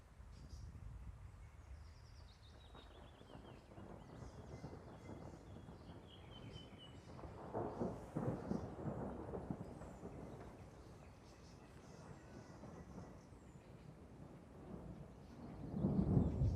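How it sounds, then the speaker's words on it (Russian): Thunder rolls faintly in the distance over Kazan during a gathering storm, low rumbles swelling through the quiet outdoor background and growing louder toward the end. "О, сверкает, сейчас громыхнет."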